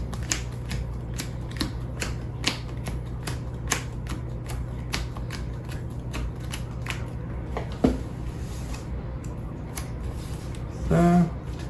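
Playing cards shuffled by hand during a solo Heat championship game, a rapid run of crisp flicking riffles at close range, ending in a short clattering squaring of the deck.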